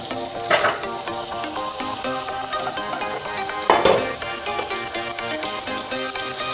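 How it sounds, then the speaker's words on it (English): Butter and oil sizzling steadily in a kadai while cooking pav bhaji, a continuous close crackling fry with a few louder spits and stirring scrapes, no talking. "I have taken a kadai. I'm going to add 1 teaspoon of butter."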